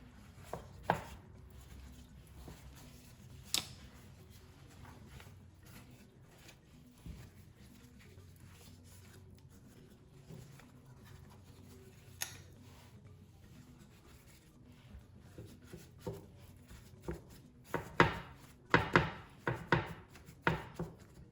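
Knife chopping through a cheese börek made from ready-made yufka pastry sheets, with scattered soft cuts early on and a quick cluster of crisp, louder chops toward the end, heard alone without talk.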